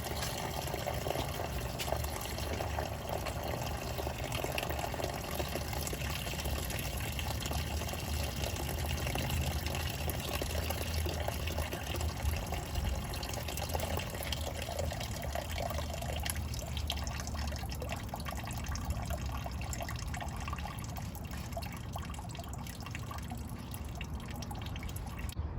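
Coolant drains out of a 1992 Mazda Miata with a steady, close-up dribbling and dripping of liquid that runs continuously and evenly throughout, with no talking.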